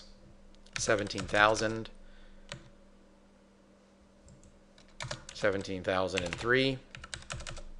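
Typing on a computer keyboard, quick bursts of clicky keystrokes in two clusters, close and fairly quiet, while someone talks over the keys.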